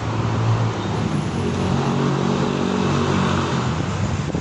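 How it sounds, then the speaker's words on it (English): Motorcycles passing along a road beside a roadside spot, a steady broadband engine and traffic roar that holds throughout with no talking. "see how noisy that part is with the motorcycles passing by"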